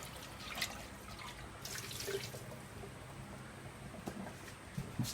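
Boiled water drains from a pan into a kitchen sink while sauerkraut is cooked, giving a steady splashing, trickling pour with a few louder spatters, close by and with no talk.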